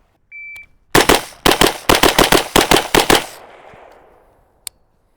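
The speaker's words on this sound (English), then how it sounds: "I'm gonna run it today with this beautiful Type A rifle" A Type A rifle fires a string of rounds at full-size human targets on a range: about a dozen loud, sharp reports in quick succession after a brief timer beep, fading into echo, with one more distant crack.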